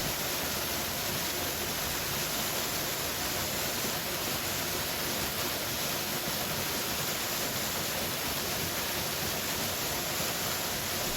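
A waterfall pours in a steady, dense rush of water that stays constant and fairly close for the whole stretch, with no voices over it.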